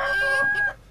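A chicken clucking close and loud in a short burst of a few rapid, throaty notes that cut off abruptly.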